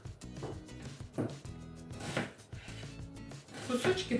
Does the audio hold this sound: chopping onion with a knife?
yes